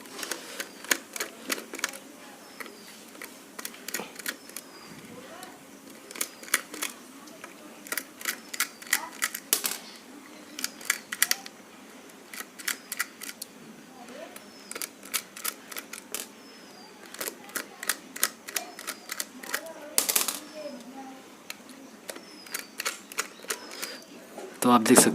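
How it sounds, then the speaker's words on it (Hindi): A screwdriver removes the six screws from a Philips BT64A Bluetooth speaker during a teardown. It makes clusters of sharp, close clicks and ratcheting ticks in irregular bursts, with quiet gaps between screws. "तो हम स्क्रू ड्राइवर की मदद से सबको खोलेंगे पहले"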